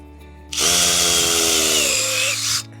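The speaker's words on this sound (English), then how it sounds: "So I've got the drill, and then I just literally" A power drill fitted with an auger bores a planting hole in garden soil for potatoes, one loud close whirring burst of about two seconds with a grinding shift near the end.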